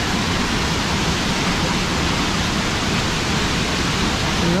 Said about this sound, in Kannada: ನೀರು ಧುಮುಕ್ತಾ ಇರೋದು ನೋಡಿ, ಕೇಳಿಸ್ತಾ ಇದೆಯಾ?